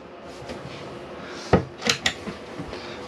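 Overhead storage cabinet door in a 2021 Chausson 640 SE motorhome swings open with a sharp wooden knock followed by two lighter clicks and taps, close by in a quiet interior.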